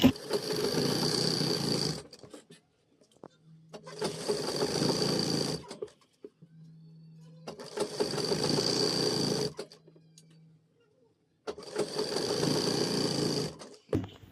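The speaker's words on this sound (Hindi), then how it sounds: "हम सिलाई लगा रहे हैं" A sewing machine runs up a seam on a pair of ladies' pants in four loud, close bursts of rapid whirring stitching, each lasting about two seconds, separated by quiet gaps with a faint low hum.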